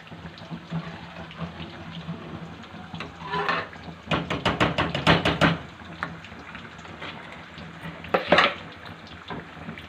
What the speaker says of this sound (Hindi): साथ साथ चम्मच हमने चलाते जाना है ताकि हमारी गुठली वगैरह के हलवे के अंदर ना बने।